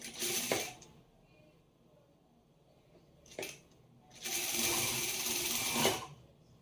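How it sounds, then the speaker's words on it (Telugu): A sewing machine stitches a folded blouse seam in short bursts: a brief run, a pause, a quick tap, then a longer steady run of stitching, all fairly close and moderately quiet. "ఇప్పుడు ఇది ఇలా ఫోల్డ్ చేసేసుకొని కుట్టుకోండి."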